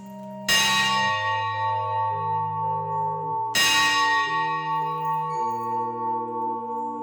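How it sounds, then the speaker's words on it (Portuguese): A large church bell tolls twice, a few seconds apart, each strike blooming into a long, rich ringing hum that lingers between and after the strokes. "às vezes no meio de uma gravação toca um sino"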